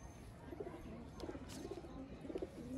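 Teddy breeder pigeons on a rooftop give soft, faint repeated coos in short bursts against a quiet background.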